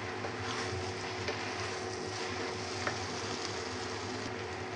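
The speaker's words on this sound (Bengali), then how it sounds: "আমি আস্তে আস্তে ভাবে নাড়তেছি, নুডলসটা যেন সুন্দর ঝরঝরে থাকে।" Vegetable noodles being stirred slowly in a hot pan, a steady close sizzle and fry with faint scraping of the utensil running throughout.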